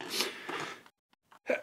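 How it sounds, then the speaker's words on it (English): A single sneeze lands at the end, a short sharp burst after a pause, close and fairly loud, following a stretch of someone talking about a knockoff toy robot with oversized weapons. "I'm going to sneeze."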